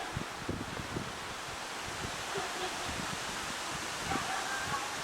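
Strong wind sweeping across a lake with whitecaps roars as steady broadband noise buffeting the microphone, with no voices.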